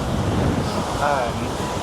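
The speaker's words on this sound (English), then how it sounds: "also it's really windy right now" Steady wind roars across the open deck of the MSC Seashore cruise ship, a constant broadband rush buffeting the microphone while a person talks over it.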